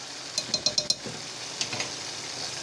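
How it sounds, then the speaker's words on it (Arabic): Garlic and dried coriander stirred in a pan with a spoon, a quick run of four or five sharp metal clinks against the pan followed by softer scraping and a low sizzle, close and alone. "واقعد اقلب"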